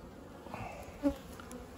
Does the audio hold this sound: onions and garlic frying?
no